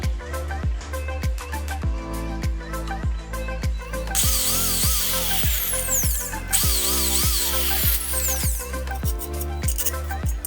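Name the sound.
drilling holes in angle iron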